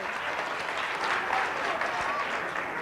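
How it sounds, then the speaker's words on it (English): Audience applause fills the room after a volunteer's brave turn at a chemistry-of-light show, steady and fairly close clapping for about three seconds with a bit of crowd noise and a voice mixed in. "Let's give him a round of applause."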